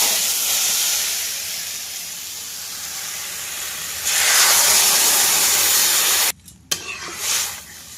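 Water poured into a hot curry pan sends up a steady, loud hiss of sizzling steam that swells halfway through, then cuts off abruptly and returns in uneven spurts.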